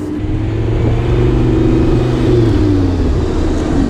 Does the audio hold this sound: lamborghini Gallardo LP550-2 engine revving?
yes